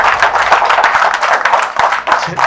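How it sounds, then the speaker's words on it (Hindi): A crowd at a Krishna festival meditation gathering claps warmly and continuously, a dense, close burst of applause with no break. "इनके लिए जोर ताली हो जाए"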